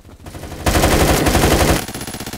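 An AK rifle in a Roblox game fires rapid automatic bursts, a loud, dense rattle of shots with a sustained stretch in the middle and sparser pops at either end.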